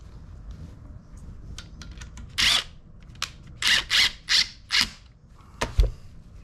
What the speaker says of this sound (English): I'll hit it with the drill for that too.